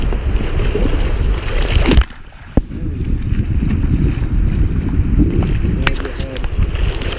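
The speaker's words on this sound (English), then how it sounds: "Some big waves." Kayak on the St. John River pushing through big waves, with steady close rushing water and heavy wind buffeting throughout, a sharp break in the noise near the middle, and brief talk in the mix.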